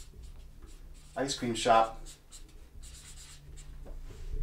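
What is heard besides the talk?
writing with a pen on paper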